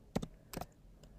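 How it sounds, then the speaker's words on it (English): Keys on a computer keyboard are typed in a short burst, a few quick clicks followed by a brief pause and a single faint tap, close and quiet with no talking. "I'm going to hit T on my keyboard and I'm going to type minimum"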